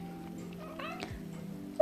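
A pet cat indoors gives a short, faint meow, close but soft, over a steady low household hum with no talking.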